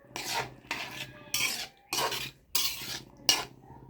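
A spoon scrapes around a cooking pot as ground spice paste is stirred into potatoes for a bottle-gourd-leaf curry: six or seven rhythmic rasping strokes, close and moderately loud, with short pauses between them.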